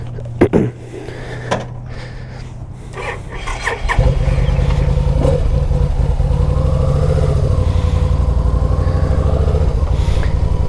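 A 2009 Yamaha 950 Tourer motorcycle cranks and starts after a few clicks and knocks, then settles into a loud, close, steady V-twin rumble as it pulls away, the engine dominating throughout.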